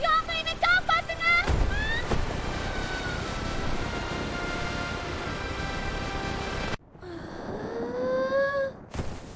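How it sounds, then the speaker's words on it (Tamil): A big ocean wave rushes in as a sound effect in a children's story, with a sustained surging wash between bursts of expressive voices at the start and end. "திடீர்னு ஒரு பெரிய அலை. ஓ, எவ்வளவு வேகமா வருது!"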